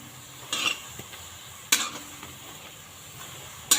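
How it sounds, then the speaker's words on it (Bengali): Bora fritters frying in oil, a low sizzle broken by a few brief bursts and scraping clinks of a utensil against the pan, close and quiet. "লাল করে ভেজে নেব"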